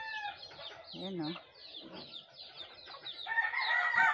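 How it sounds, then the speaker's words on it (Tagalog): Hens and their scattered chicks clucking and peeping outdoors on a farm in Davao, with a rising cluck midway and busier chirping near the end, partly under a man's casual speech. "Kalat ang mga sisiw. Dalawa ang nanay."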